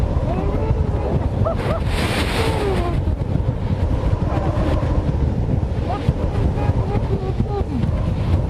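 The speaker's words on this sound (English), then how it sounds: "this is about 65, maybe 70 miles an hour worth of wind" Strong, steady wind of about 65 to 70 miles an hour roars and buffets the microphone throughout, with a low rumble and gusty surges.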